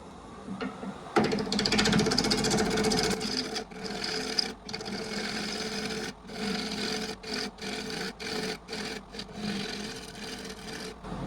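A gouge cuts a tenon on a wooden bowl spinning on a wood lathe, making a continuous rough scraping and whirring broken by brief pauses as the tool lifts off, close and steady, with no voices.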